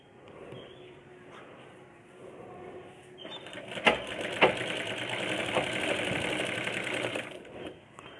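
A sewing machine stitches a blouse, starting quietly and then running steadily louder for several seconds with a couple of sharp clacks, close by, with no talk.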